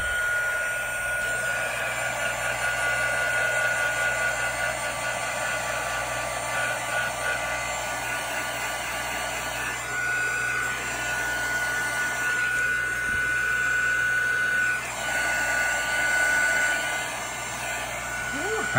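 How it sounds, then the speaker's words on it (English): A heat tool blows steadily to dry ink on a handmade Valentine card, a continuous whirring hiss with a high whine that holds for the whole stretch with slight dips. "grab the heat tool and just kind of dry these up just a pinch"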